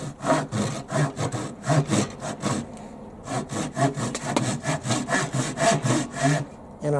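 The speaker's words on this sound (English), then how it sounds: "the saw is staying perfectly on line" Harbor Freight 10-inch 15 TPI rapid pull hand saw cutting through wood, a fast run of rhythmic rasping pull strokes, close and loud, briefly pausing midway before resuming steadily with no speech.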